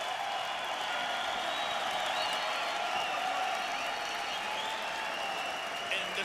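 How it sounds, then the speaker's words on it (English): An arena crowd in Las Vegas applauds and cheers after a UFC mixed martial arts fight, a dense, sustained wash of clapping and crowd noise with commentators talking over it. "The crowd's on its feet."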